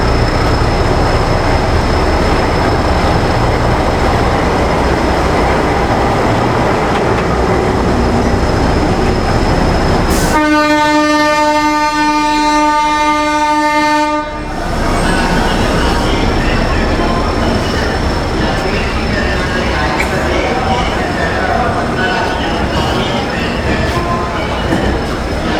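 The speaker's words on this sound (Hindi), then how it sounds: "फाइनली ट्रेन को प्लेटफॉर्म पर तो लगाया गया।" A Jan Shatabdi Express passenger train pulls into a busy station platform on the Patna to Ranchi route, its horn sounding a long, loud tonal blast midway through steady rumbling and crowd noise.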